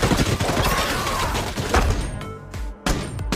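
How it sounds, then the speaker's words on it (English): A heavy machine gun firing a sustained barrage, with dense, loud, rapid bursts of shots and booming impacts that break into separate heavy thuds toward the end. "she mounted the heavy machine gun and joined the fight. Under the barrage of fire"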